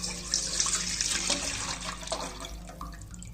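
Milk poured into a cooking pot on a stove, about 1.5 litres, a steady close liquid stream splashing and gurgling for several seconds without pause.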